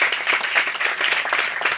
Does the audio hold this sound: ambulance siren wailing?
no